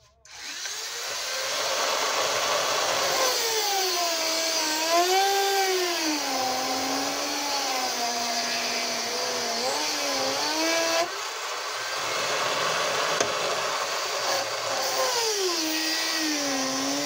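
A high-pitched power tool whines steadily as it cuts a broken screw lodged inside a Yokoyama sewing machine needle clamp, its pitch wavering up and down under load, with a brief dip partway through.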